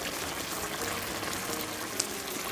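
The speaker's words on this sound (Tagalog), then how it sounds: "hayaan po natin muli itong kumulo" Lechon paksiw sauce made with Ilocos vinegar boils in a pot, giving a soft, continuous bubbling and faint popping at close range with no voices.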